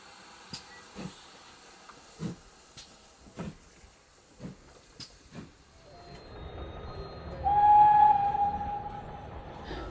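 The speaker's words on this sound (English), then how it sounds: "There are some wonderful steam locomotives in operation on this railway" A series of rhythmic clanks and chuffs give way to a rising rumble and a whistle as a steam locomotive passes nearby.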